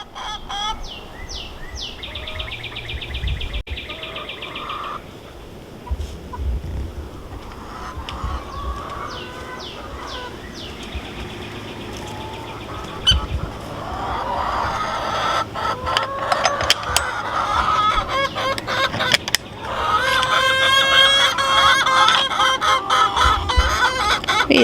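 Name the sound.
loud chickens clucking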